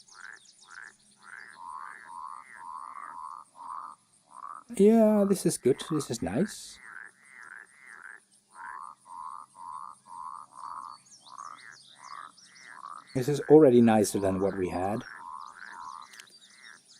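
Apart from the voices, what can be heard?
frog croaks from game audio sources in Unity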